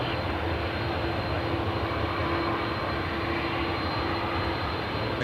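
Jet engines of a Qantas aircraft on the runway at Sydney Airport give a continuous, steady broadband roar, heard from a distance and fairly faint, with no voices.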